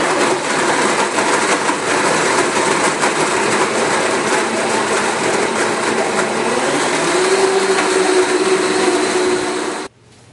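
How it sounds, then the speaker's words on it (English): A Blendtec blender grinds almonds with water for almond milk, a loud, steady motor roar with gritty churning that holds for several seconds, then cuts off abruptly near the end. "I normally blend it for about 2 minutes until it's nice and ground up."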